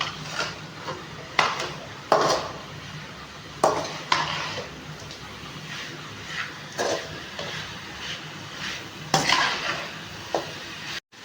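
Chicken with masala is stirred in a pan, with intermittent scraping strokes and metallic clatter of the spoon against the pan over a low, steady sizzle.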